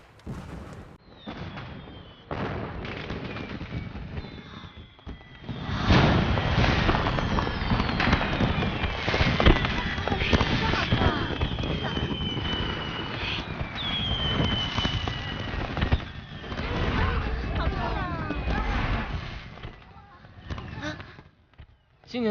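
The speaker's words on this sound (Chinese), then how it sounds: "这烟花也太好看了" Fireworks burst over a palace New Year's Eve banquet, a dense, continuous stream of crackling pops and bangs that grows louder after a few seconds and carries on for the rest of the clip.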